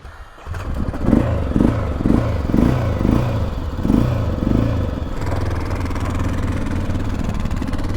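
A motorcycle engine on a Continental Divide ride sputters to life with a rhythmic, uneven chugging of several loud pulses, then drops into a lower, shakier idle as it nearly stalls out.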